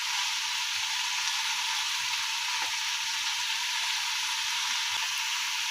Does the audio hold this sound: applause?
no